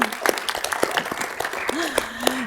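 An audience in an assembly chamber claps in a short, scattered burst of applause, individual claps distinct rather than a roaring crowd, with voices and a cheer mixed in.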